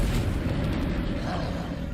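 A Confringo fire spell blasts in Hogwarts Legacy, a sustained dense rumbling roar filling the whole moment, loud and close, with a voice talking over it.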